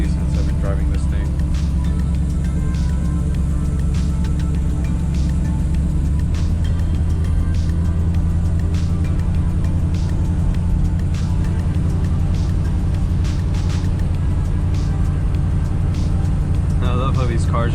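A 1965 Ford Thunderbird idles at very low revs, a low, steady engine rumble that stays close and constant throughout, with a person talking over it.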